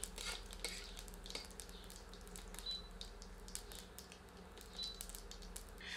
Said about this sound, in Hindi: इसमें आधा टीस्पून जीरा सम्मिलित करके पुनः कुछ क्षण भूनते हैं